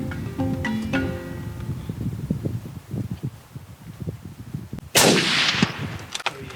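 A single sharp rifle shot bursts out loud and close during a hunt in South Africa's Eastern Cape, ringing out over quiet rustling and soft outdoor background.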